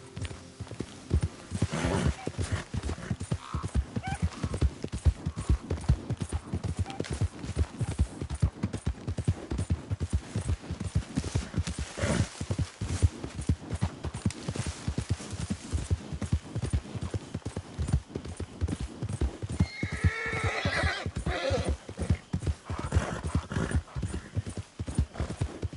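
Horse hooves trotting at a steady clip-clop rhythm in a PS4 Western video game, loud and continuous throughout, with a brief whinny-like burst near the end.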